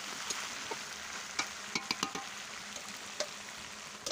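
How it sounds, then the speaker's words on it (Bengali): Potatoes and garlic chicken stirred in a sizzling pan, village-style home cooking: a steady frying hiss runs throughout, broken by scattered clicks and light scrapes from the spoon at close range. "2-3 মিনিট ধরে কষিয়ে নেব।"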